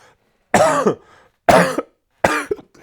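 Three loud, close coughs, evenly spaced about a second apart, in otherwise silent surroundings.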